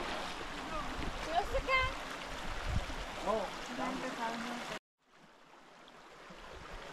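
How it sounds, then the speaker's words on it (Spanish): A mountain stream near the Pico Duarte trail in the Dominican Republic makes a loud, steady rush of flowing water close by while people talk over it, then cuts off abruptly and returns as a quieter, softer wash. "Aquí está el arroyo, bueno,"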